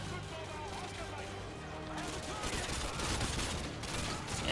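Rapid, continuous automatic gunfire from a mounted gun in Modern Warfare 2, a dense rattling barrage with someone talking over it.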